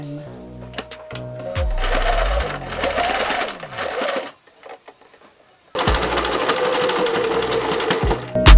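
A sewing machine hems sheer mesh sleeves in two long runs of rapid mechanical stitching. A pause with soft handling noises falls between them, and a brief clunk comes at the start.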